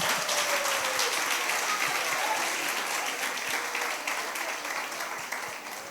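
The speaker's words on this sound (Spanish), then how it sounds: "Dele un fuerte aplauso a Dios." A congregation applauding during a church gathering, sustained crowd clapping that holds steady and slowly tapers toward the end, heard alone without voices on top.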